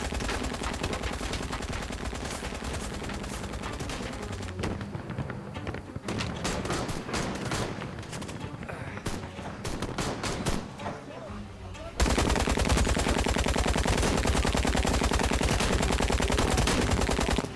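Gunfire in the adventure game Syberia: The World Before, sustained volleys of rapid shots, with a quieter stretch of scattered bangs midway before a loud, dense burst resumes at the end.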